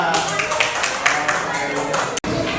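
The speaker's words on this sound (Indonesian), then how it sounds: "Beri tepuk tangan untuk kelompok 2." A class of students in a Pancasila civics lesson claps for a group after its presentation. The dense, close applause runs evenly with a few voices mixed in, then cuts out briefly near the end.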